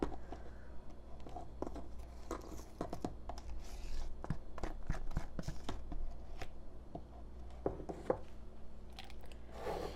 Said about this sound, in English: scrape the bottom, scrape the sides, make sure we got it all mixed in